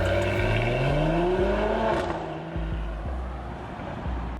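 A Mercedes GLE450 AMG exhaust revs loudly, its pitch climbing then dropping, followed by several short blips of the throttle over a deep steady drone.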